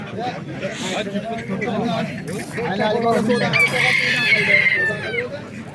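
Chickens and roosters at a busy Fergana poultry bazaar in Qumtepa, with clucking and crowing calls mixed into steady crowd chatter and bargaining voices throughout.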